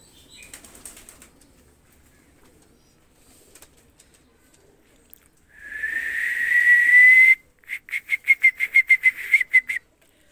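Two pigeons of Sakib bloodline, sold as Pakistani stock, burst into flight with a sustained whirring wing flutter followed by a run of rhythmic wing claps, close and loud, after a quiet start.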